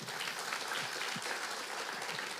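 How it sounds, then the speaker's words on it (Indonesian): A church congregation clapping together during a sermon, a dense, even wash of applause that fills the whole moment without pause, heard from within the room. "Tepuk tangan bagi Tuhan."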